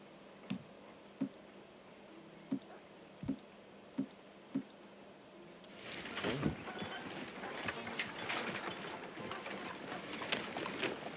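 A horse's hooves clop at a slow walk in the Western game Red Dead Redemption 2, six or so distinct evenly spaced steps, then a louder scuffing rush of movement and faint clicks take over toward the end.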